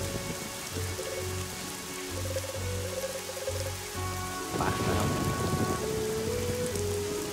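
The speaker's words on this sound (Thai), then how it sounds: "แต่แถวนี้ก็แปลกนะ ฝนตกตลอดเลย" Steady rain hisses continuously in the video game Evoland 2, with low game tones underneath and a brief quiet voice.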